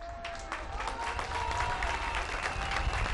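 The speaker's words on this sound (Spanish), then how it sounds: "párate porque te vamos a dar un aplauso a ti también" Applause from an outdoor crowd at the inauguration of a rural road in Santo Domingo Xagacía, Oaxaca, steady dense clapping at moderate loudness with some voices mixed in.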